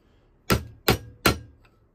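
Three sharp metallic hammer blows struck about 0.4 seconds apart on an air conditioning compressor pulley bearing being driven out, each a loud clanging hit with a short ringing decay, close and alone.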